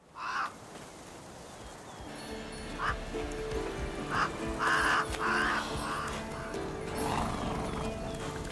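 Roach, Geralt's horse in The Witcher 3, heard in game with snorting and whinny-like calls and hoof clops over a steady ambient and musical bed, moderately close.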